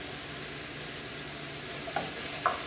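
Onions and garlic fry in a pan with a soft, even sizzle, and two light utensil clicks come near the end.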